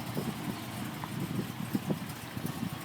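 1987 Buick Regal Turbo T-Type Grand National 3.8 engine idling, a faint, steady low rumble with soft rhythmic pulses and light ticking, no talk over it.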